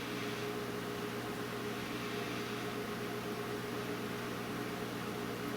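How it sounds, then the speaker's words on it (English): A microwave oven hums steadily with a constant, even whirring drone and faint hiss, running without pause or any voices. "I'm going to put this in the microwave probably for about 30 seconds at a time."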